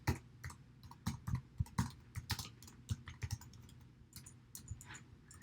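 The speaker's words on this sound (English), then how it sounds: "I'm going to type in my utilities expense" Keys tapped on a computer keyboard in uneven bursts of clicks, close and fairly quiet, with no talking.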